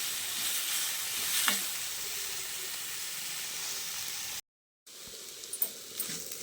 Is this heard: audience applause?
no